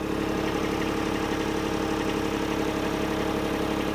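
A Kubota B2601 compact tractor runs at about 2,000 RPM in low gear and four-wheel drive for stump bucket work, giving a loud, steady diesel drone with an even mechanical rattle and no voices.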